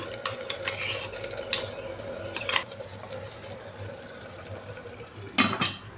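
Cooked pumpkin being mashed in a pot for erissery, with soft scraping and squelching utensil strokes coming in a few short bursts against a quiet kitchen background.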